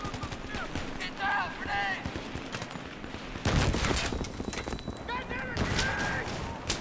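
Pistol gunfire in Battlefield 3, with a sharp burst of shots and game effects ringing out amid clattering in-game sounds while people talk over it.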